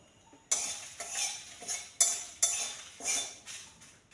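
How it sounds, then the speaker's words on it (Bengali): Green chillies being stirred in a pan for a jujube pickle, a spatula scraping and clinking against the metal in about six uneven strokes, close and fairly quiet, with no talking. "লঙ্কাগুলোকে ভালো করে একটু নাড়াচাড়া করে নিতে হবে"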